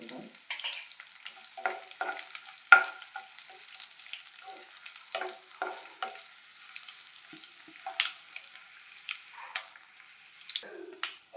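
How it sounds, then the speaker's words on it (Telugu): Fenugreek leaves, potatoes, chillies and onions fry quietly in a pan, a soft sizzle broken by scattered clicks and scrapes of stirring, one sharper knock near the start. "ఇప్పుడు బాగా ఫ్రై చేస్తున్నామండి"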